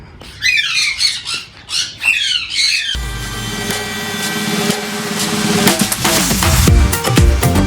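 Pet birds squawk in a cage, shrill calls rising and falling near and loud for the first three seconds, then a dense wash of overlapping chirps and squawks from many birds carries on to the end.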